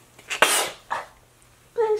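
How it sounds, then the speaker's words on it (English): A single sharp, close sneeze with a breathy intake before it, then a short exhale and a brief vocal sound afterward. "Hold on, I'm about to sneeze."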